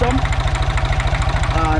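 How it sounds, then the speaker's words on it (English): A Ford 1900 tractor engine idles close by with a steady, rapid rhythmic thumping and a clattering tappet noise, loud and continuous throughout. "adjust the tappets and see if the engine noise eases up some."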